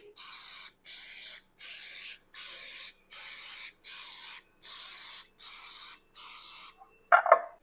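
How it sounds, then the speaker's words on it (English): Nine short, evenly spaced hissing bursts of nonstick cooking spray from an aerosol can into each opening of a pan, close up and regular, followed by a brief clatter at the end. "We're going to spray it with nonstick cooking spray, just each opening."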